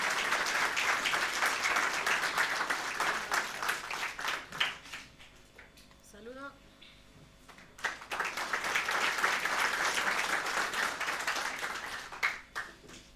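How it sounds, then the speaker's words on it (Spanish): A church congregation at a Sunday service applauding the choir Nueva Alegría: dense, sustained clapping from a crowd that dips briefly around the middle, where a short rising tone sounds, then swells again. "vamos a recibir, por favor, con fuertes aplausos al coro Nueva Alegría."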